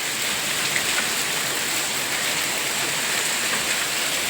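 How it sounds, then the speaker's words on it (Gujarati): Heavy rain pours down steadily, a dense unbroken hiss of drops close by, loud and constant with no voices over it. "વરસાદ આવે છે અંદર આવતા ને વધતો જ જાય છે"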